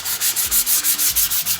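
Wood edges of a farmhouse end table being sanded by hand, a loud, steady back-and-forth rasp repeating in quick even strokes, close up with no talking.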